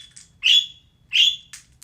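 A bird tweeting in the background: two clear, bright chirps about a second apart, plus a couple of fainter short calls, over a quiet low murmur.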